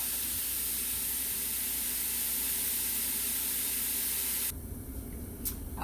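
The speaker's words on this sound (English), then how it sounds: "we're going to let that simmer for a second" Miso soup ingredients sizzle and simmer in a pan, a steady close hiss holding for about four and a half seconds before dropping to a quieter bubbling sizzle.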